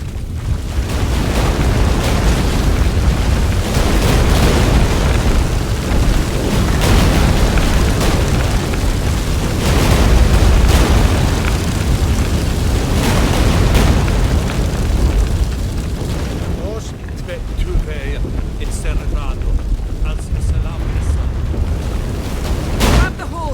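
A deep, continuous earthquake rumble in The Witcher 3, loud and heavy with booming bursts throughout, easing off slightly near the end while voices speak over it.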